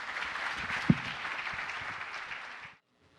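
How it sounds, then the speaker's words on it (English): An audience at a formal event gives a warm round of applause for the association president, steady and moderately loud with one sharp knock early on, then cutting off abruptly into silence. "let's give a warm round of applause to Steve DeCraig"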